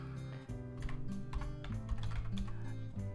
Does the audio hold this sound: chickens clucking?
no